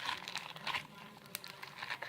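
Slime being squeezed and worked by hand gives off a steady run of small crackles and crunchy crinkling pops, close and fairly quiet, with a few sharper snaps standing out.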